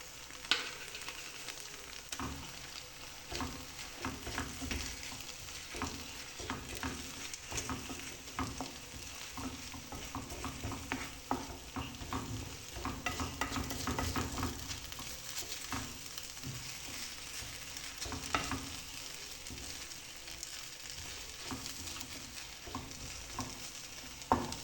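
Cheese kottu frying over low heat in a pan, a steady soft sizzle with a continuous scraping and tossing clatter from stirring, close and even throughout, with no talking.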